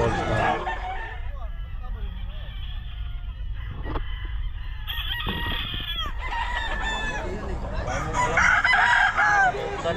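A young rooster (stag) crows repeatedly at the Bocaue pet market amid clucking fowl and a busy market background, with people talking nearby.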